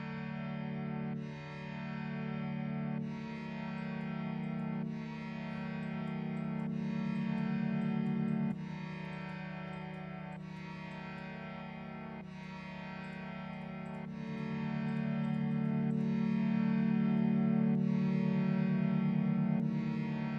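Sustained Omnisphere 2 synthesizer tones with distortion and an echo effect, each note repeating in echoing trails; steady loudness that swells slightly toward the end, no voices.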